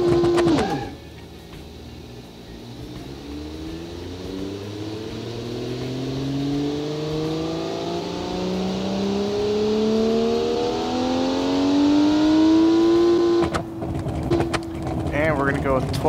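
In the game Automation, the Jupiter Turbo car accelerates with a long, continuous engine note rising steadily in pitch across one drawn-out gear, loud and close, before cutting off sharply near the end.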